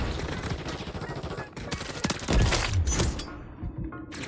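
Rapid assault rifle fire fitted with an L4H flash hider in a video game, bursts of fast shots at close range with heavier impacts midway, continuous and loud throughout.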